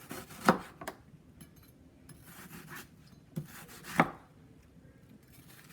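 A knife chops through half an onion on a board for beef stew, giving a few sparse, crisp cuts with two louder knocks, close and without any talk.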